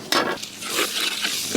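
Sliced onions sautéing in oil left over from frying chicken, a soft sizzle broken by scraping stirs and clinks of a utensil against the pan, close by.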